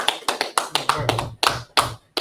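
Hands clapping in a studio during a radio show, a run of about ten sharp, fairly close claps in an uneven rhythm, with a low voice murmuring beneath.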